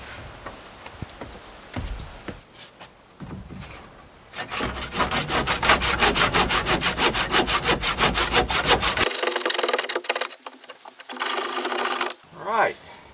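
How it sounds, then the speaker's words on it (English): Handsaw cuts through wood for an outdoor staircase rebuild, a burst of fast rhythmic back-and-forth rasping strokes, loud and close, preceded by scattered handling noises and ending with a few final scrapes. "I'm gonna get a handsaw and finish it."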